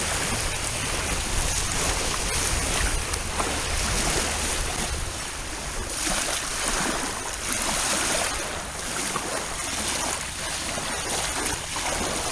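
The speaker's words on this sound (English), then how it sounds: "Listen to that lapping behind me." Sea waves lapping on an empty beach strewn with shells and sea glass, heard as a continuous wash of surf with gentle swells rising and falling every couple of seconds, no voices over it.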